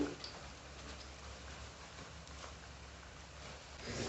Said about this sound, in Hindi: अब इस साइड से भी हम इसे तकरीबन 1 मिनट के लिए फ्राई कर लेंगे।